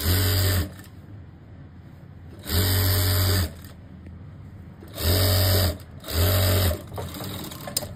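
Sewing machine stitching cloth panels for a twelve-panel palazzo, running in four bursts of roughly a second each with quiet pauses between, close and steady.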